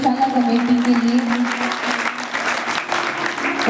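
An audience claps loudly and continuously for a gaushala committee at the close of a seven-day Shri Ram Katha in Dhingawali, Punjab, with a sustained tone humming beneath the dense applause.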